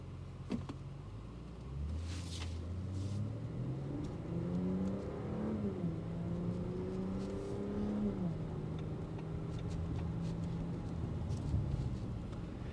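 A 2025 Audi SQ5 Sportback with a twin-turbo V6 revs up and down in a few rising and falling sweeps, heard faintly from inside the cabin with a low whir underneath and no talk.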